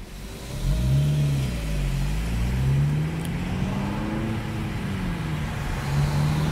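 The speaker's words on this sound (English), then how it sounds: "Accelerating is very good in normal driving." A 2015 Honda Civic Si coupe accelerates in normal driving, its mid-pitched engine note climbing and falling steadily through the gears, heard close from inside the car with no voices.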